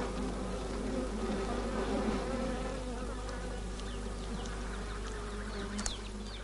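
Bees buzz in a continuous, dense drone that stays loud and steady throughout, like a busy swarm near hives, with faint bird calls in the background.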